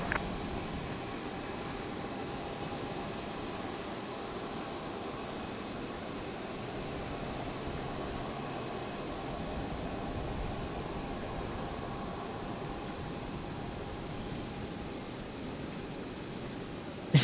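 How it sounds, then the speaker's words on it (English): A China Airlines Airbus A350 departs from Brisbane Airport, a steady distant jet rumble and whine holding at a low, even level throughout with no talk. "I'll hang around for the China Airlines 350 departure."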